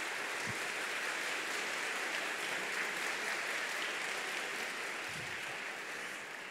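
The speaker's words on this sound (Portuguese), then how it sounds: "vamos aplaudir a palavra de Deus" A church congregation applauds after a reading from the Bible, producing a dense, even, continuous wash of clapping that holds steady throughout with only a couple of low thumps underneath.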